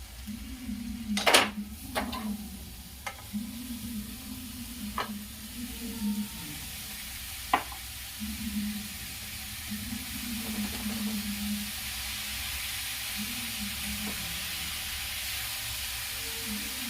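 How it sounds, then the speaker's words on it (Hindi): Chopped spinach greens for a mustard-and-spinach sabzi tumble into a pan over low gas, followed by clattering utensil scrapes and stirring, with a faint steady hiss of steam underneath; no one talks. "जो पालक का साग काट के रखी हूँ उसे डाल दूंगी"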